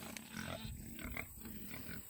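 Pigs at a county fair swine show grunting and snuffling in short, repeated bursts over a constant background hum, fairly close and moderately loud.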